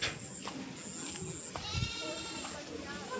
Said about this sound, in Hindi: और यहाँ बकरी चल रही है